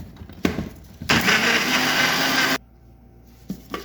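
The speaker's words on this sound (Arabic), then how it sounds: "هاخده بقى اشغل عليه خلاط" An electric blender whirs loudly and close for about a second and a half, mixing warmed milk curdled with vinegar, then cuts off abruptly. Short knocks and clatter come before and after it.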